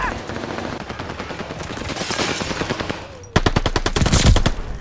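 Rapid automatic gunfire rattles in bursts at the hard point in a multiplayer shooter video game, growing louder and sharper partway through, with faint voices underneath.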